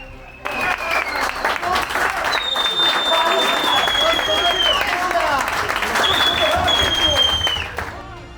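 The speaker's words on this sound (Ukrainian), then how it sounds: "усі зустріли Віталія Пономарьова оплесками" A football team applauds head coach Vitaliy Ponomarov as he enters the dressing room after a win in Zhytomyr; loud, close, dense clapping with cheering voices and whistles running through the whole stretch.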